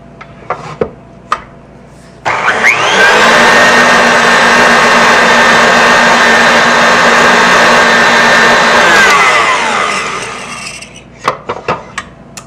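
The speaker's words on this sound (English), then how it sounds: "I'm going to give the bowl a final scrape and a last little mix just to get all this sugar in." An electric mixer whirs steadily for about eight seconds, giving stiff meringue for mini pavlovas a final mix after the sugar goes in. It is loud and close, with brief clinks and taps before and after.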